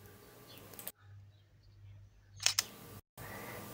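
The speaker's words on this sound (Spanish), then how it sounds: "aquí tenemos el característico sonido de cuando toma una foto" A single-lens reflex camera fitted with a reversed lens on an inverting ring fires its shutter once, a quick, crisp double click heard close up in an otherwise quiet room.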